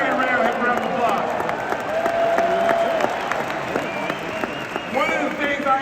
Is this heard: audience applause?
yes